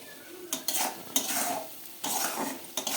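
Chicken is stirred and fried in a pan with salt, a spoon scraping and knocking against the metal over a steady sizzle, with repeated bursts of stirring up close and no voices.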